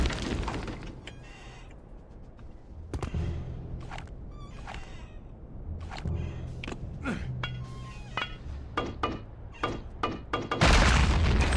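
Grenade blasts and gunfire in Return to Castle Wolfenstein: a series of sharp, punchy booms and cracks spaced irregularly over quiet gaps, ending in a heavier, louder explosion.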